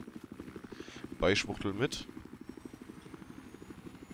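Attack helicopter in the multiplayer video game Battlefield 4, its rotor thumping in a fast steady pulse throughout while someone briefly talks over it.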